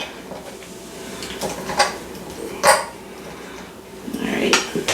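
A small kitchen knife and knife holder are handled during home breakfast-enchilada cooking, giving a few sharp, close metallic clinks and clatters spread across a few seconds of low background noise.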